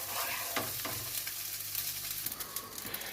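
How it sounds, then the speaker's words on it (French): Rice being stirred in a frying pan after soy sauce, salt and pepper are added, a steady sizzle of frying with scraping and stirring strokes, close and continuous, no voices. "Et on mélange. Jusqu'à ce que tous les grains de riz soient un peu bien séparés."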